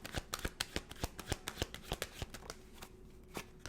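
Tarot cards riffled and shuffled by hand in a steady run of crisp, rapid flutters and snaps, close and clear, with no talking, easing off toward the end.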